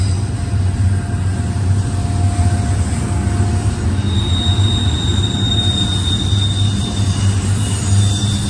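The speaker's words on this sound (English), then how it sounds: "A lot of power. Domestic stack train so far." A heavy BNSF domestic double-stack freight train rumbles past steadily at Mormon Rocks in Cajon Pass, deep locomotive drone and rolling wheel noise with faint high squeals, loud and continuous throughout.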